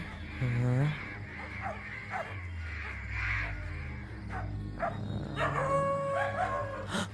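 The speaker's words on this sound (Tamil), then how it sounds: "நாய் குலைக்குது," A dog barks and yips in short bursts, with whining, howl-like tones and background voices nearby.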